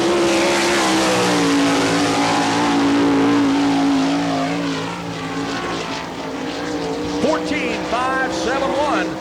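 A sprint car on a qualifying lap at Barberville speedway, its engine roaring loud and sustained and then shifting pitch as it passes, with crowd and announcer noise beneath.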